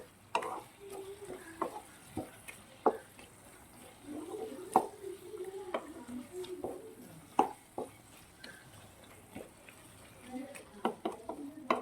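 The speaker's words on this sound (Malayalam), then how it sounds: "അതുകൊണ്ട് നമുക്ക് ഇപ്പോൾ കുറച്ച് കുരുമുളക് പൊടി ചേർക്കാം. പിന്നെ നമ്മൾ ഇതൊന്ന് ഫ്രൈ ആയി വരുമ്പോഴത്തേക്ക് കുറച്ചുകൂടി ചേർക്കാം. ഒന്ന് ഇളക്കി കൊടുക്കാം." A spoon stirs a homemade beef fry seasoned with black pepper powder in a pan, giving soft, intermittent scraping clicks and a faint sizzle, quiet and close.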